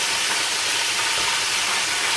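Verdinhos, small fish, frying four at a time in hot oil, giving a steady, dense sizzling hiss that stays even and loud without pause.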